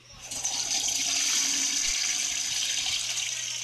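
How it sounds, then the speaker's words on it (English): A toilet flushes in the horror video game The Baby In Yellow, a steady rushing swirl of water that starts abruptly and holds loud and close for several seconds with no talk over it. "Flush it."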